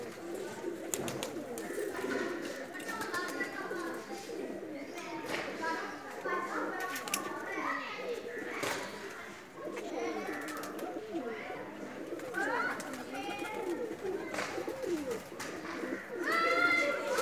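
Pigeons coo repeatedly at close range, their soft throaty calls overlapping against a steady background of rustling and faint voices.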